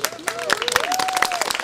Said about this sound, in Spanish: Un aplauso para sus papás.